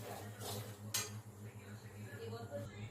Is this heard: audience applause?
no